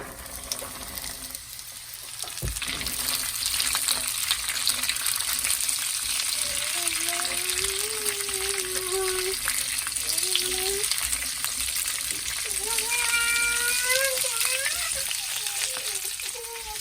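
Peanuts fry and sizzle steadily in canola oil over a low flame, a continuous crackling hiss with occasional stirring scrapes, close and fairly loud throughout.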